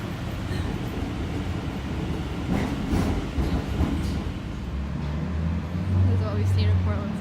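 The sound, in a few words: train passing in Portland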